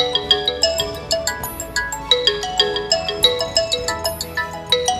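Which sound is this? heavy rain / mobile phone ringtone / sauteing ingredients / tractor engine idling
mobile phone ringtone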